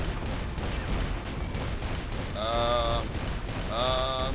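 Sustained gunfire rattles in a sci-fi action video game with alien ships, a dense continuous barrage with tonal electronic weapon whines layered in, loud and close.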